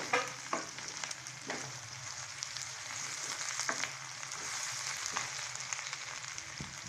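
Tinda and chicken curry frying in a pan, a soft continuous sizzle with intermittent scrapes and taps of a spoon stirring, fairly quiet and close, no voices.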